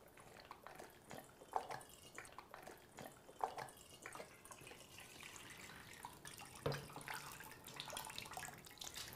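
Soft chèvre cheese curds draining through a small cheese form held over a bowl, giving faint wet drips and trickles with a few louder splashes, close and quiet with no talking.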